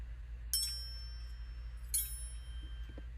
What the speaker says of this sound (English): That one, Keys and Crotales, which sounds like this.